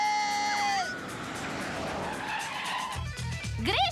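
A car's tires squeal sharply as it skids hard to a stop, nearly running over a pedestrian. The screech is loud and up close and falls in pitch, followed by a few low thumps and a fresh squeal at the end.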